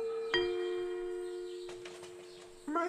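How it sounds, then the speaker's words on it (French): Doorbell in the video game Terra Forestia, a clear electronic chime with a bright attack that rings out in a sustained tone, followed by a second soft strike near the end. "Ah, là c'est la sonnette, je parie."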